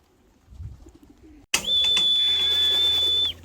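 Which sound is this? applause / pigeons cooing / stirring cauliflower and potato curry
pigeons cooing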